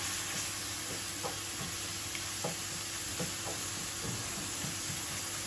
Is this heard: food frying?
yes